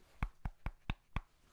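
Five sharp mouth clicks imitating billiard balls knocking together, evenly spaced and close up, with nothing else heard.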